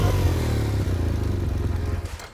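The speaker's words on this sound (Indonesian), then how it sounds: "Begitu saya ngerem, saya tidak remas, bisa Anda dengar" A motorcycle rolls close by while its brake is applied gently without being squeezed hard. The engine drones with a light clatter and a slight scraping that fades toward the end.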